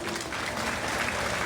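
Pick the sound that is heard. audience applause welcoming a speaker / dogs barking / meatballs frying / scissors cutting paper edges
audience applause welcoming a speaker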